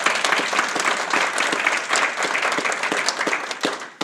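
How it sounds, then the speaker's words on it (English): An audience at a school district hall of fame ceremony gives an honoree a round of applause, sustained crowd clapping with a few sharper individual claps, easing slightly toward the end. "please join me in giving him a round of applause."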